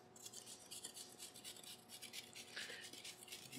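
Carrots grated by hand on a box grater for a Moroccan carrot and raisin salad, giving a steady run of quick, bright rasping strokes at close range with no talk.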